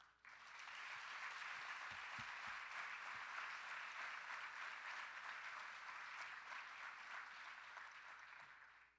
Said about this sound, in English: let's give IIDA and everything it has contributed to the industry in the last 25 years a round of applause